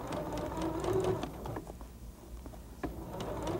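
A domestic sewing machine stitches decorative rows on silk bloomers, guided by a quilt guide; a steady close mechanical whir and rapid needle patter runs for a few seconds, dipping briefly before resuming.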